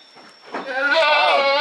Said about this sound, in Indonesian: Ini yang kalau orang-orang bilang ini yang namanya kambing bluwer